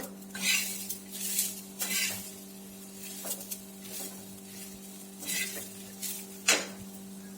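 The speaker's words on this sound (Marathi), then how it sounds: "ही बघा पाव किलो गवारी मी तव्यामध्ये हलकीशी भाजून घेणार आहे" Cluster beans (guar) dry-roasting on a tawa, with repeated scraping clinks of a metal spatula stirring them across the hot pan, in irregular bursts over a low steady hum.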